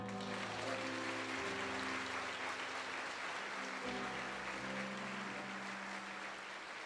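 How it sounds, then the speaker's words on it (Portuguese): Congregation applauding in a church during a sermon, with steady dense clapping that fills the room and sustained tonal music underneath, holding loud for about seven seconds before easing slightly. "Quem pode aplaudir?"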